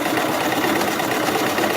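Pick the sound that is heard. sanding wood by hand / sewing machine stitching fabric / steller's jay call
sewing machine stitching fabric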